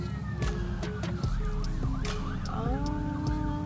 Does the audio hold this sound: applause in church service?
no